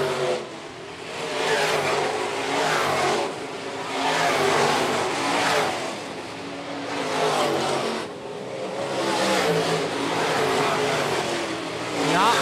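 Modified race cars roar around a dirt racetrack at Phillips County Raceway, engines rising and falling in waves as cars pass, loud and continuous, with an announcer talking over the racing.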